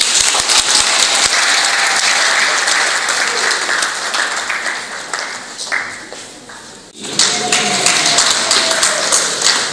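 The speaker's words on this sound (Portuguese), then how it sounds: "Forte salva de palmas ao curso de gestão de recursos humanos." A crowd at a graduation ceremony claps loudly and steadily, a dense patter of many hands that dips briefly near the middle and then swells again at full strength.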